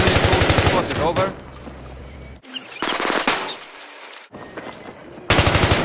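Automatic machine gun fire in the video game Battlefield 3, with loud rapid bursts at the start, in the middle and at the end, separated by short quieter gaps that hold in-game sounds.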